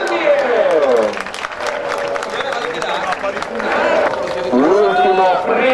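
A crowd applauds at a motocross podium ceremony in Gazzane di Preseglie, with scattered clapping and cheers heard under a loud announcer's voice over the PA.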